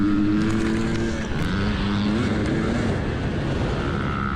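Honda CRF250R dirt bike with a big-bore kit running on a motocross track, its engine droning steadily and loud with rising and falling revs throughout, no voices.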